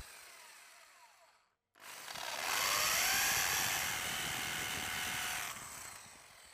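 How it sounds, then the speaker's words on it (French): A hammer drill set to hammer mode bores holes, with a loud, continuous, gritty roar and a high whine that holds steady for several seconds after a brief pause. "Nous perçons maintenant les trous avec la perceuse à percussion sur la position marteau."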